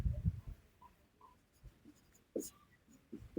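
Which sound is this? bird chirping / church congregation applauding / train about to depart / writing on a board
writing on a board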